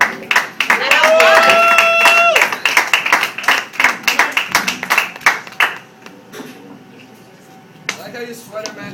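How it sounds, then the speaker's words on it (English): Live audience at a spoken-word event clapping loudly for a performer, a dense burst of applause for a couple of seconds that breaks into scattered claps, with people talking and a few whoops over it. "Audience, applaud for Brent."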